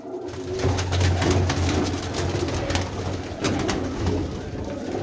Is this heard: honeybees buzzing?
no